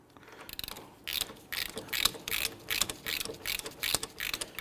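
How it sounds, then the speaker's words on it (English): A hand ratchet clicks in quick bursts while strut bolts are run in on a 2011-2015 Kia Sorento front strut assembly, its pawl ticking rhythmically in several close, distinct spurts with brief pauses between. "we'll go ahead and pop our ratchet on there"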